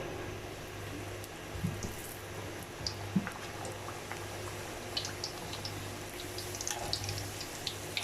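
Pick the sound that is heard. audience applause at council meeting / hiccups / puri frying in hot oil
puri frying in hot oil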